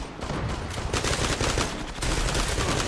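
A Galil AR rifle fires in dense rapid bursts during a video game match, close and loud, with sustained automatic gunfire filling the whole stretch.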